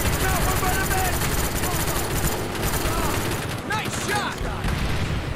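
Rapid machine-gun fire rattles without letup during aerial combat in the video game Call of Duty: Black Ops, loud and continuous over a rotor-like drone, with voices talking beneath the shooting.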